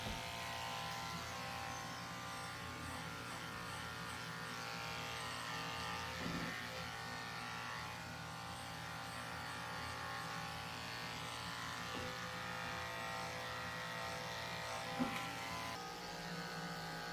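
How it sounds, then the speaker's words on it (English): Electric dog clippers shave a Yorkie's fur during grooming, producing a steady, faint, continuous buzzing hum that runs throughout with little change, with no talking. "I'm using my tin blade to shave underneath her tail"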